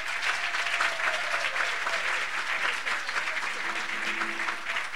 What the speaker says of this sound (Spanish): A las funcionarias y funcionarios de la ANDE les pido por favor un fuerte aplauso.